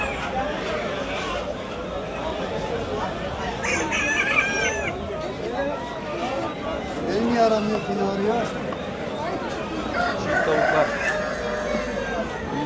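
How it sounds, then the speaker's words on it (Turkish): A rooster crows amid clucking chickens at a bird market in Bursa, Turkey, with people chattering nearby over a busy background. "Horoza bak."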